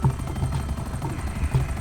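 Helicopters leaving a police scene in the FiveM GTA video game, a steady low rotor thump and engine drone holding at a fairly loud, constant level with no voices.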